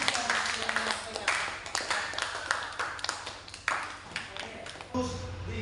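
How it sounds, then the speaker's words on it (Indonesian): Applause for a student speaker in a school classroom, with irregular clapping that runs throughout at close range and is briefly interrupted near the end. "Tepuk tangan dulu untuk Agus yang menyampaikan."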